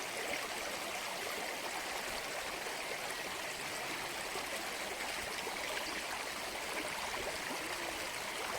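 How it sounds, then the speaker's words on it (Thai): A stream flows steadily in the open, a broad, continuous rush of water with a bright trickling texture, holding an even loudness throughout with no voices. "ฟังเสียงน้ำจ้ะ"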